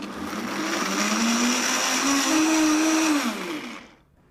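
A blender grinds moringa leaves, green chili and ginger into a paste. The motor whirs loudly and steadily, its pitch rising slightly as the blades work, then winds down and stops near the end.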